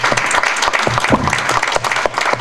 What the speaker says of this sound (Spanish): Lo aplaudo a ustedes por la paciencia.